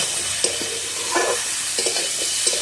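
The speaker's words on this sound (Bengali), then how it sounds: "ঝিঙে আলু এবার ভালোভাবে কষে নেব।" Ridge gourd and potato stir-fried in a pan, a steady sizzle broken by several scraping stirs of the spatula.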